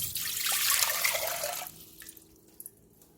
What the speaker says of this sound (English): So we're going to add 2 cups of cold water.